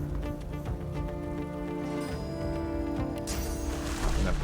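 Rain conjured by a spell in Divinity: Original Sin 2 falls as a steady wash of patter under the game's ambient music, brightening into a sharper splash near the end.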